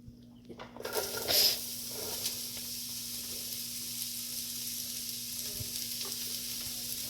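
Onions hit hot oil with a sudden loud sizzle, settling into a steady, close frying hiss over a faint background hum.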